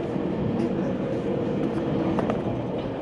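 Spirit of Queensland tilt train running, heard from inside the lounge car: a steady, loud rolling rumble and rail noise that fills the whole clip, with faint clicks of the wheels over the track.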